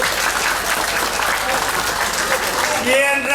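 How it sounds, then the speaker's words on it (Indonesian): An audience at a Balinese Drama Gong comedy performance claps steadily, then a voice breaks in over the fading applause near the end. "Tepuk tangan, tepuk."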